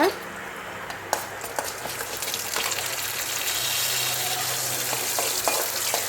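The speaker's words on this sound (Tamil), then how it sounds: "ஒரு பேனில் கொஞ்சமாக எண்ணெய் விட்டு கருப்புளுந்து ஆட் பண்ணியிருக்கிறேன்" Black urad dal frying in a little oil in a pan over low heat gives a steady sizzle with occasional sharper clicks and scrapes, heard close up; a faint voice may come in at points.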